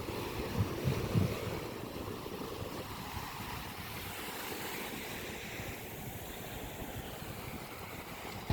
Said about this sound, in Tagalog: Napakasigla nung dagat